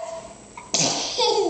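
A young child sneezes once, a sharp close burst after brief quiet, while reading a Thomas the Tank Engine book with a parent; a quick vocal sound follows.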